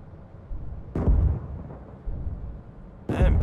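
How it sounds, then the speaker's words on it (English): Artillery fire in the tank game GHPC: two heavy, booming blasts about two seconds apart, each with a rolling rumble after it and no talk. "Artillery."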